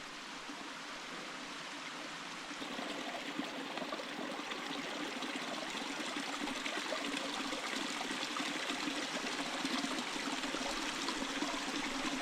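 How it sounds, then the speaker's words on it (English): Water flows steadily out of a cave in the Walls of Jericho canyon on the Alabama-Tennessee line, a constant rushing stream with no voices over it. "There's a cave up there that the water's coming out of."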